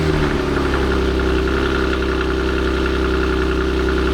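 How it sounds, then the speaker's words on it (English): Audi B8 S4 fitted with CTS test pipes and Vibrant resonators idles at operating temperature, a loud, steady, deep rumble with even low throb running unbroken throughout, no voices. "Car's been idling for a bit now."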